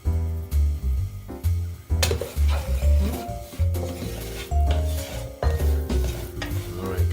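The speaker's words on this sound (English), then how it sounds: "get the almonds and the garlic mixed in together so you can't tell them apart" Almonds and garlic being stirred into broccoli rabe in a hot pan on medium-high heat, a steady scraping and sizzling clatter of utensil against pan, close and continuous, with beat-like rhythmic bursts throughout.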